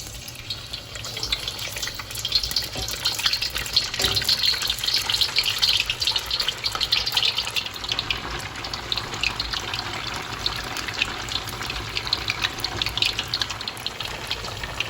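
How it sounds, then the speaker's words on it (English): Tofu deep frying in hot oil in a wok gives a steady, dense crackling hiss that continues evenly and fairly close, with no voices. "If it's hot enough, you can start to deep fry your tofu."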